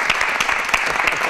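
A studio audience on a Spanish television talk show applauds the actress Lola Herrera as she arrives, a short, fairly loud burst of clapping from many hands.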